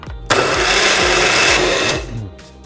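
A blender runs at full speed making a healthy breakfast smoothie inside an RV, a loud steady whirring drone that starts abruptly, holds for about two seconds and then winds down, with no voices.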